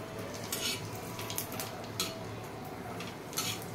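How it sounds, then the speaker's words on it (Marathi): Chillies roasting in oil on a hot griddle give a steady close sizzle and crackle, with brief brighter bursts of spattering popping through every second or so. "मस्त भाजायची तेलामध्ये, खायला छान लागते."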